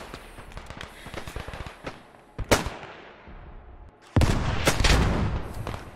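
Rifle gunfire in the WW1 video game Beyond The Wire, a string of sharp reports, some close and loud, others distant, with a heavy burst of shots toward the end over steady battlefield rumble.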